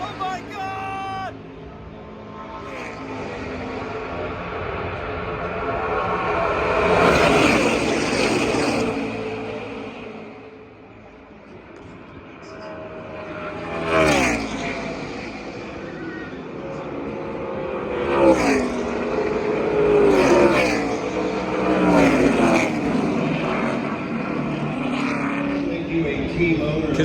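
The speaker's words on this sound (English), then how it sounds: "you're about to see what it's like when NASCARs go past you right by the fence" NASCAR stock cars at the 2020 Daytona 500 roar past close beside the fence one after another, each pass a loud engine swell that rises and falls away. A person talks over the noise.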